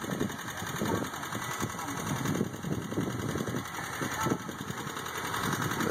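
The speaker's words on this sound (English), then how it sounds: "There's the tick that the engine has" A 1993 Ford Festiva GL engine idles steadily with a quick, regular ticking running through it, fairly quiet and continuous.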